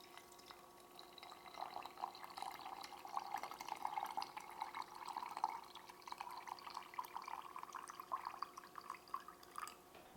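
Heated water is poured into a fermenting jar of garlic scapes, a steady, close trickle and splash of liquid filling the glass for several seconds, fairly quiet, with no talking.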